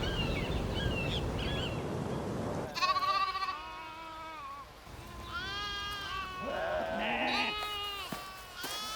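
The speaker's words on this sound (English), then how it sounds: "We brought a herd of goats" A herd of goats bleating in an outdoor field, several wavering calls overlapping from near and mid distance after a brief burst of low rumbling noise.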